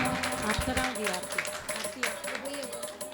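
At a Jain temple's diksha-day ceremony in Budhana, an audience applauds children who brought decorated aarti plates; the scattered clapping is fairly faint and mixed under a speaking voice.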